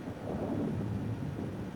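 Thunder rumbles in the X-Plane 11 flight simulator during a thunderstorm, a low, muffled rolling boom that swells and fades over under two seconds.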